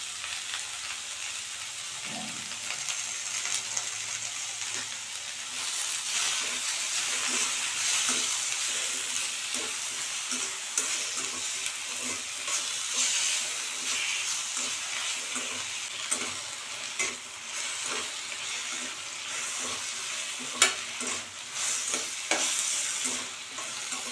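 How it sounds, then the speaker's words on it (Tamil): Tomatoes with salt sauté in a pan for a spicy chutney, a steady close sizzle and hiss with scattered scraping stirs and one sharp clink, with no talking. "தக்காளியோட கொஞ்சம் உப்பு சேர்த்து நம்ம வதக்கிடலாம்"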